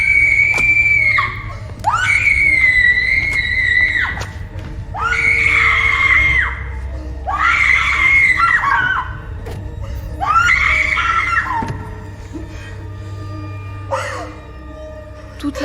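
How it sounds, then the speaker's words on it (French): A woman's anguished screams of pain, several long, loud cries in a row separated by short gasping pauses, ending in a weaker, faltering wail, all close and intense in a dramatic French film scene. "Hurlement de la martyre"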